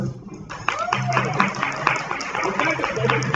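An indoor audience breaks into scattered clapping that builds into steady applause, with voices mixed in.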